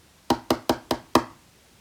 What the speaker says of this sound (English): Suddenly, Percy heard a tapping sound.